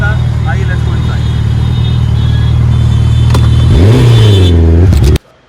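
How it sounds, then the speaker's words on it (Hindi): Suzuki Hayabusa motorcycle engine idling with a steady deep rumble, then revving up and down twice in quick surges, loud and close, cutting off abruptly at the end. "कैसी लगी बूसा की आवाज?"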